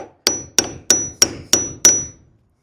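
A hammer drives a metal pin into a barn gate post with six sharp, evenly spaced ringing blows, each leaving a brief metallic ring. The blows are close and loud with no talk.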